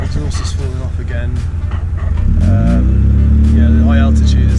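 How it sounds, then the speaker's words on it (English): A car climbs a long hill at high altitude with its exhaust coming loose. The engine strains, then swells into a loud, low, laboring drone under close conversation inside the car. "And the car is not very happy, so it doesn't like first gear either."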